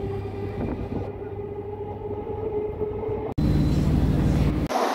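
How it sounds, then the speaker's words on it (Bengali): Shantipur local passenger train on the Sealdah line, a steady low rumble with rail rattle that grows louder and rougher partway through, as if passing or moving closer, with no voices over it. "এই শান্তিপুর লোকাল ধরে আমি যাব রানাঘাট পর্যন্ত"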